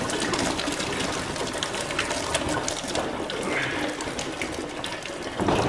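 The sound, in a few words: coolant draining from lowest radiator pipe of a flooded 2018 Audi RS3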